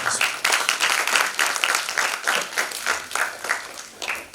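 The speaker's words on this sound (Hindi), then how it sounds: "जोरदार तालियों से आप।" Audience at a Lucknow stage event claps loudly to welcome a guest, a close crowd of hands in strong rhythmic surges that gradually taper off.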